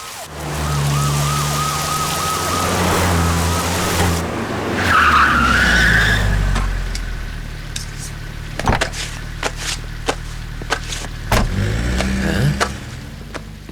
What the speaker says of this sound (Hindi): पुलिस की 4 गाड़ियां छोड़ने आई थी